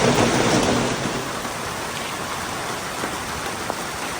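Heavy rain pours steadily with gusting wind in a loud, continuous broadband wash on a July evening, slightly stronger at the start, with no talking.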